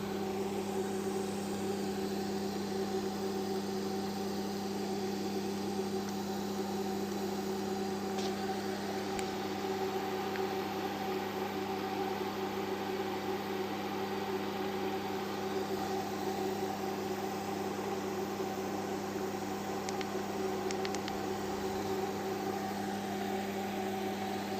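A Magnatech D-Head orbital welder welding schedule 10 stainless steel pipe: a steady, even electrical hum with a constant drone, running unbroken at a moderate level and without any talk.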